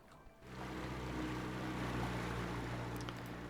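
Ferry engine in the city-building game Cities Skylines, a steady low buzzing drone like a lawnmower motor. It cuts in sharply after a brief quiet start and then holds at an even, close level with no talk.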